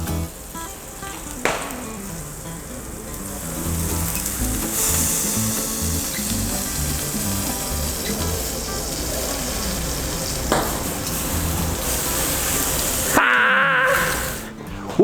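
Bell pepper searing in a hot pan, a loud continuous sizzle with occasional utensil knocks and a sharp burst near the end.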